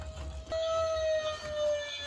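A fire truck siren in a children's song about working vehicles sounds as a steady, sustained wailing tone that holds for about a second and a half over a low background hum, with no talking.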